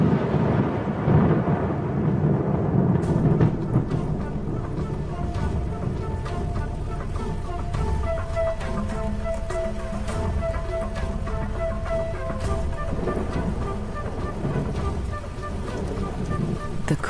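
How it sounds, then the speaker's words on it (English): Heavy rain pours down steadily with low rumbling thunder rolling underneath, a dense wash of noise throughout. "the promised rain arrives at last"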